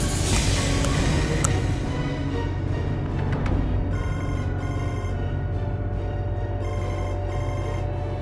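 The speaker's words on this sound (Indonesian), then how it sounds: "Aku harus telepon Adnan" A telephone rings with a steady repeating electronic ringtone pattern, sustained and fairly loud over a dense dramatic backdrop, no speech.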